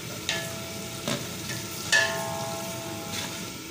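A kilogram of onions fries in hot oil toward golden, a steady sizzle under several sharp metallic stirring clanks and scrapes against the pan, close and fairly loud.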